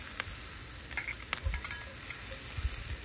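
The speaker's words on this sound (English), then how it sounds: "I'm just gonna saute these up real good, real quick." Sausages sauteing in a cast iron skillet over a hot fire, a faint, soft sizzle with a few light scrapes and taps as they are stirred.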